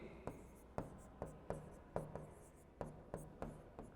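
Writing strokes tap and scratch in a steady rhythm, about nine sharp quiet strikes roughly half a second apart, with no talking over them.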